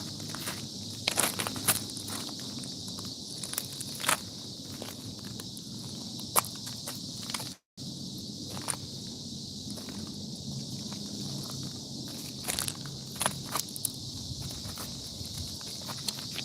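Cicadas buzz in bushes beside the Yellowstone River in a steady, high, continuous drone, while footsteps crunch irregularly on rocky ground nearby.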